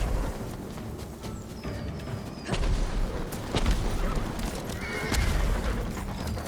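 Horses whinny and neigh in the video game Ghost of Tsushima amid clopping hooves and dull thumps, several loud calls over a busy, rumbling background.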